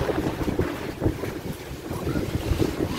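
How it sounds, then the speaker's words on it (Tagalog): Strong wind buffets the microphone in heavy, gusting rushes, a continuous low roar that swells and dips, with no talking. "Umulan. Sabi guys, may ano, parang lakas ng hangin."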